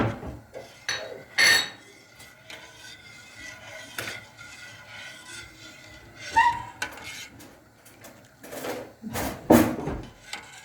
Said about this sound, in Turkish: Şekerin şöyle kaynayana kadar karıştıralım.